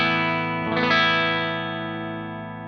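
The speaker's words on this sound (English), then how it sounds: "I'll let you hear the humbucker just so you can hear that as well" Electric guitar on its humbucker pickup, clean tone with no pedals engaged: a single strummed chord rings out with a bright attack, then sustains and slowly decays, loud and close with no voices.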